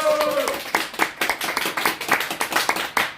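Applause from the audience opening the 218th Yesolmi praise concert: a burst of close, fairly loud clapping with distinct individual hand claps, with a voice briefly audible at the start.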